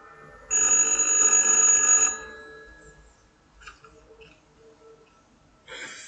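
A telephone rings in the horror video game Little Hope: one loud, steady electronic ring lasting about a second and a half, followed by quiet, sparse in-game sounds and a brief soft noise near the end.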